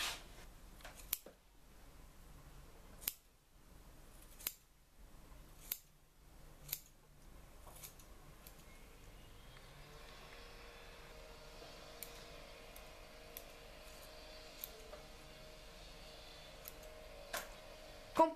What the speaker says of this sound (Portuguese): Eu tenho esta tesoura que já não está a cortar muito bem